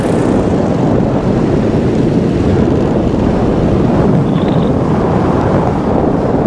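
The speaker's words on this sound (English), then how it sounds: "It's quite strong wind at the minute. A little bit gusty." Steady, strong wind roars across the microphone for the whole stretch, a dense broadband rush with slight swells and no voices.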